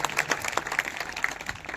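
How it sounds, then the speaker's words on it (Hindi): Worship audience clapping hard in praise to the Lord at a testimony gathering: brisk, dense applause with individual claps poking through, continuous for the whole short stretch. "प्रभु का जोरदार तालियां बजाएंगे, जोरदार बजाएंगे।"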